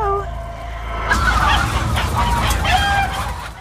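Chickens at a chicken farm cluck and squawk in a dense, close flock, the busy chatter swelling after a second and continuing steadily throughout.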